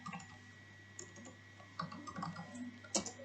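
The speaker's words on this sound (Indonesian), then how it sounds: "Selanjutnya kita coba ketik data di sini." Student data is typed into Microsoft Excel on a computer keyboard: faint, irregular keystroke clicks with small bursts and pauses over a low steady hum, one sharper click near the end.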